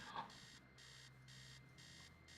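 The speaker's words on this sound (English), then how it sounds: "Upstairs, the sound of the alarm clock blaring." An alarm clock blares upstairs in the horror game Stories Untold, a steady electronic ringing in repeating bursts that carries on without pause over a low hum.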